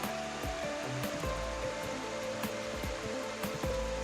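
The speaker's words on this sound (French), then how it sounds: "L'eau coule de l'un dans l'autre, formant de belles chutes." Water spills from one rock basin into the next in a chain of small waterfalls along a stream heading to the Topolnitsa River, a steady broadband rushing with no voices.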